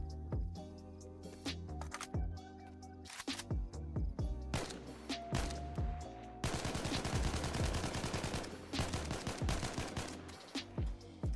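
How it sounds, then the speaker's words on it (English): AK-74 rifle fire in the video game DayZ: bursts of loud, close automatic shots with ringing tails, then a dense rapid stream of gunfire that continues almost without pause. "You can also test out the new guns if you just simply spawn in a gun. Like the new AK-74."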